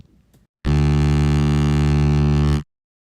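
A single heavy, distorted synth bass note from an RC-505 MKII looper with pitch and distortion effects drones steadily for about two seconds, thick and buzzy, then stops abruptly into silence.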